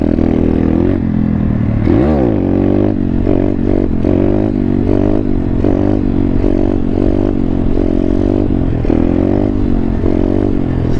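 Thumpstar pit bike single-cylinder engine revving hard in third gear, a loud rattly drone rising and falling in repeated surges with clattery mechanical noise, close up with no talk.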